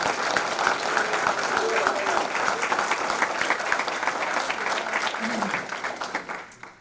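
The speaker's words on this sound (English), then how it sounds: "And just a round of applause for her." Audience applause at a naturalization ceremony, broad steady clapping from a room of people that holds for several seconds and then tapers off near the end, with some faint voices mixed in.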